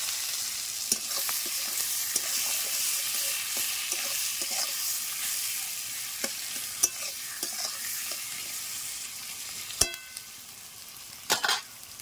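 Onion and chopped tomato frying in a pan give a steady, quiet sizzle with occasional scraping stirs and a few sharp clicks of a utensil near the end.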